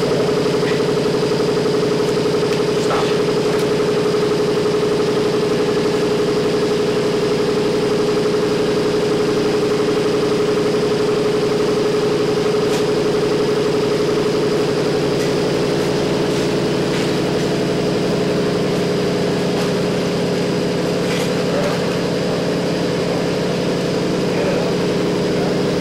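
A bias sewing unit with a tensionless auto unwinder, doubling device and edge control runs at a steady, loud mechanical hum and drone, with faint ticks scattered through it and no speech.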